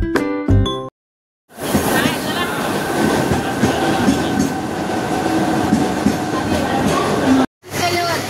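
A train at Kalyan railway station in Maharashtra, heard up close as a loud, continuous rumble with rhythmic wheel clatter. A brief voice and a short gap come at the start, and the sound cuts off briefly near the end.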